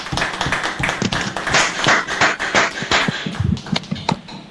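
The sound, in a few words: audience applause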